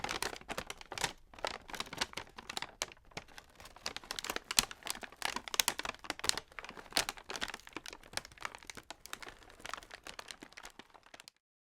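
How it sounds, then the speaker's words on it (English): A paper bag being crumpled by hand gives a steady run of crisp, crackling rustles and sharp crinkles up close for about eleven seconds, alone with no voices. "that's me crumpling a paper bag"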